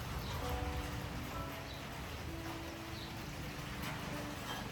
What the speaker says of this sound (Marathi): मस्त असा पाऊस पडतोय